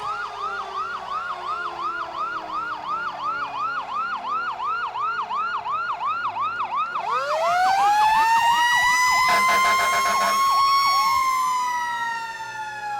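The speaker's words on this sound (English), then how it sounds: "Bringing up the rear, one of the Natick fire engines did make it back." A Natick fire engine siren wails close by at a July 4th parade, first in rapid repeated yelps, then shifting to a long rising and falling wail with a horn blast partway through.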